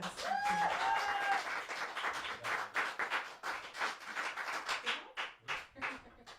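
Applause after a live band's song at a small cellar venue, starting dense and loud, then thinning into scattered, separate claps as it fades out.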